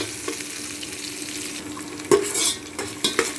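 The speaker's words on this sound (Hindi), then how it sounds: "मेरा प्याज भून के तैयार हो चुका है" Onions frying in hot oil with cumin, a steady sizzle with stirring scrapes and a few louder clatters of a spoon against the pan, close by and with no talk.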